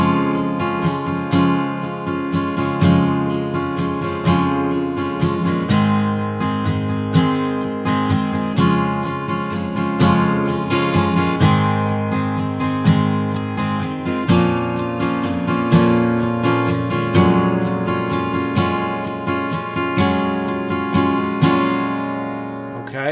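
Acoustic guitar chords for a song are strummed up to speed in a steady down-up pattern, close and bright, with the playing continuing alone for over twenty seconds.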